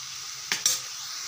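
A carrot, coconut and jaggery laddu mixture stirred in ghee: two quick scraping strokes in the pan, close and brief, over a soft steady hiss.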